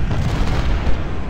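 Civil War cannon artillery in the strategy game Ultimate General: Civil War, heard as a loud, dense rumbling boom that fills the short moment with heavy low-end roar and no voice over it.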